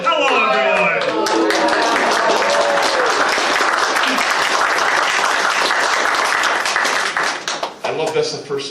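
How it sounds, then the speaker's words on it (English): Enthusiastic audience applause fills a convention panel room at a furry convention, a dense burst of clapping that swells and then tapers, with voices speaking before and after. "I love that's the first time we've ever had applause."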